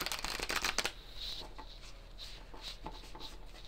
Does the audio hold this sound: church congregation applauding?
no